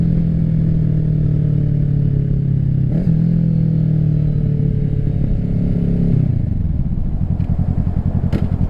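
A 2024 Kawasaki Ninja 650 fitted with an M4 exhaust is ridden on the road, its engine droning loud and close, then stepping down in pitch into a lumpy, pulsing idle-like burble near the end.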